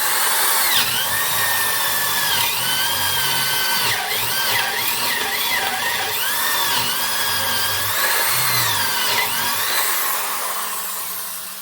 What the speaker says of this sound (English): So it ought to drive this 1-inch spade bit just fine too.